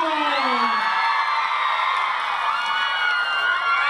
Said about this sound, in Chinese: 满满的尖叫声跟热情的掌声来欢迎